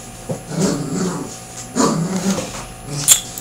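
A dog growls in the Roblox game Heroes of Robloxian, with two or three low rumbling bursts spread across a few seconds and a short sharper sound near the end.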